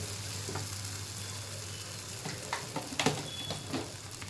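A thick gram-flour curry being stirred in a pan, with soft scraping and bubbling sounds over a low steady sizzle and a few louder scrapes near the end. No one speaks.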